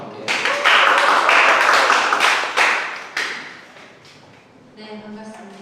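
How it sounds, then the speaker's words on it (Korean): An audience at a youth network general assembly in Namhae, South Korea claps together in a loud burst that dwindles into scattered claps, with a voice speaking briefly near the end. "박수와 함께."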